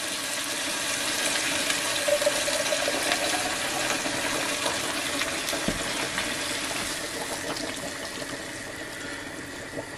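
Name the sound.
water poured into pot over meat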